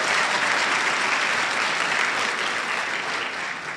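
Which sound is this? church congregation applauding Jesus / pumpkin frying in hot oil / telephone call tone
church congregation applauding Jesus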